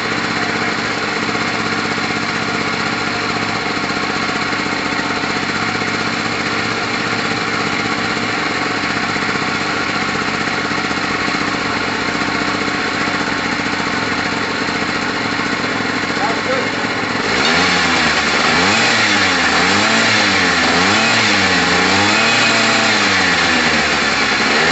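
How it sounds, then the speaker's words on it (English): A Gilera DNA 125 two-stroke scooter engine idles close by, a steady buzzing drone that shifts near the end into a louder, wavering, revving pulse. "There's that two-stroke sound we're looking for."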